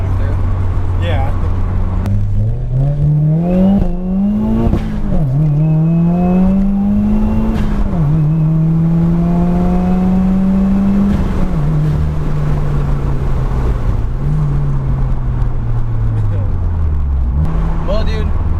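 A turbocharged Chevrolet Cobalt SS holds loud, rising and falling engine revs on a two-step launch limiter, repeated pulls sustained over about eighteen seconds close to the microphone.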